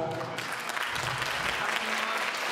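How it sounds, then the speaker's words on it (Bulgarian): An audience applauds children's dancers at an anniversary concert, dense continuous clapping filling the hall at moderate level, with a voice briefly audible beneath. "Силни аплодисменти за прекрасните деца."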